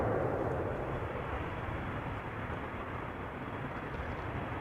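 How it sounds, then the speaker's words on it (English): A business jet taking off from runway 22 at Amsterdam Schiphol Airport, a steady broadband engine roar heard from a distance, holding fairly constant throughout with no talk over it. "We're also seeing a BizJet taking off from runway 22 in the meantime."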